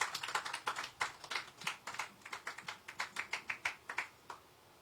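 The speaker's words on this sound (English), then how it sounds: "Another round of applause" A small audience at a technology law seminar gives a round of applause, sparse and distinct handclaps in a quick irregular patter, fairly faint and thinning out toward the end, with no talking.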